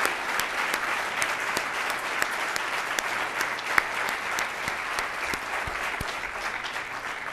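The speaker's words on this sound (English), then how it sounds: "Please join with me in giving them a round of applause." An audience at a recognition event applauds event staff, a steady patter of many hands clapping at moderate volume that continues throughout without voices.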